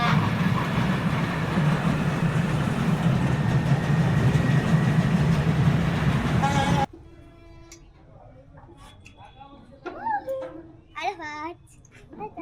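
A kiddie train ride runs at a children's park, its steady rolling rumble filling the first half before cutting off, followed by quieter moments with a voice and other people talking nearby.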